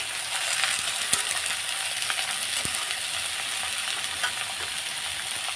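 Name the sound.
potato fritters frying in oil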